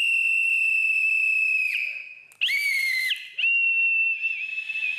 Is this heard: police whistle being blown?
yes